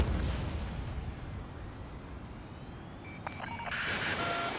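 A missile launch and explosion in the Ace Combat 7 flight game come through as a broad rushing roar and rumble that swells again near the end, with faint electronic warning tones layered in.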